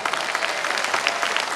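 An audience at a Garhwali song performance gives a brief, dense burst of clapping that holds steady throughout without fading.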